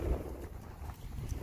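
Wind gusts buffet the microphone outdoors in the Mojave desert near an old miner's cabin, a low rumbling roar that swells and dips, fairly faint, with no other sounds.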